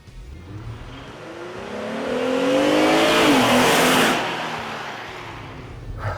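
A Jeep Gladiator fitted with a BD Power throttle booster in ludicrous mode accelerates hard. The engine climbs in a loud rising roar that peaks mid-clip, then eases back, with no talking.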